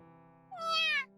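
A small black kitten meows once from inside a box in the video game YOU and ME and HER: A Love Story, a short, clear, rising-falling cry over a steady background tone.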